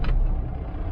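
A semi truck's engine idles right after being started, a steady, close, low diesel rumble running evenly throughout with no voices.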